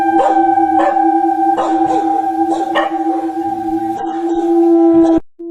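Dogs in a community howling with scattered barks and yips over a steady, sustained tone, fairly loud and continuous before stopping abruptly.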